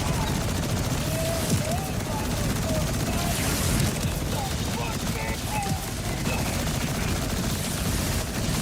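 Rapid SMG gunfire in Borderlands 4, dense bursts of shots running continuously amid game effects and a steady backdrop of loud action noise, with talking over it.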